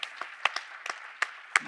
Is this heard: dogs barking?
no